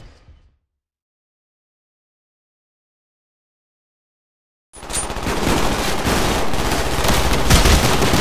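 Near silence breaks into a sudden burst of loud, continuous automatic gunfire in the video game Call of Duty: Black Ops that rattles on without pause to the end.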